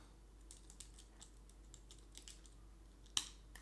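Quiet, rapid keystrokes on a computer keyboard while entering a new address in a browser's address bar, light irregular tapping with one sharper key hit near the end, no voices.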